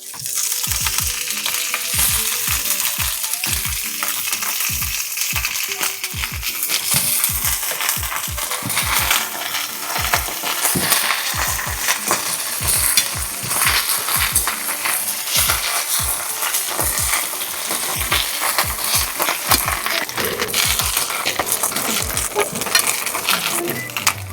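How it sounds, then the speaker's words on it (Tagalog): Bok choy frying in hot oil gives a steady, crackling sizzle, with frequent sharp clicks and taps from stirring or turning the leaves close at hand. "Habang nakababad to, magprito naman tayo ng mga gulay"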